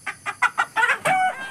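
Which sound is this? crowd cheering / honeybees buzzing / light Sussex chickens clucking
light Sussex chickens clucking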